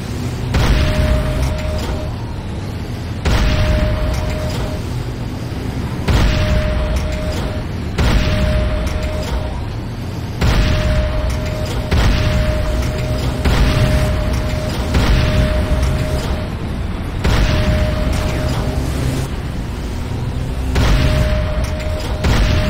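Explosions and battle noise from a Nod airstrip under attack in the video game Renegade: loud, dense booms and bursts in repeated surges over a constant drone, with a steady tone recurring between them and no talk.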